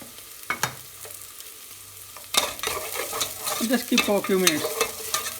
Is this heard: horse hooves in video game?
no